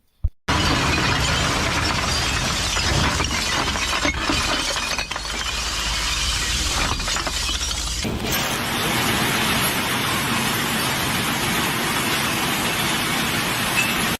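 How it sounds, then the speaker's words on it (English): A slow lava flow on Mount Etna in Sicily grinds forward close up, a dense, continuous crackling and tinkling like breaking glass, loud and unbroken, with a sudden shift in texture partway through. "The lava flow that you heard of has the sound of broken glass or breaking glass"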